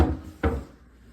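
A worn wooden cabinet door with some rot thumps once as it is opened or shut, a single close knock followed by faint rustling in a quiet room.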